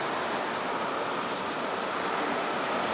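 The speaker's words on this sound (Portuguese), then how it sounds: "Você já viu pedra, água batendo nas pedras" Seawater crashing against rocks along the shore, a loud, continuous broadband roar of surf with no pauses and no voices.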